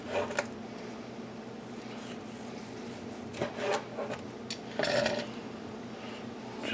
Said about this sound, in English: Then you can start slicing it from right here.